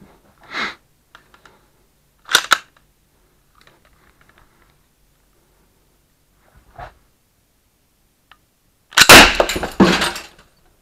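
PPSh submachine gun shots striking a homemade Kevlar 29 and titanium armor plate: several sharp, separate cracks spaced through the quiet, then a louder, longer burst near the end.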